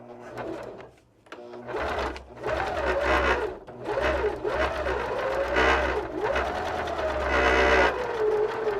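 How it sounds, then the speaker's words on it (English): Sewing machine stitching along a paper piecing line with black thread, a steady close mechanical whir that briefly stops near the start, then runs continuously with small changes in speed. "Okay, so now I've sewn right along that line."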